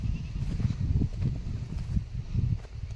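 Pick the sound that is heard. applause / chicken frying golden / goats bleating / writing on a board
goats bleating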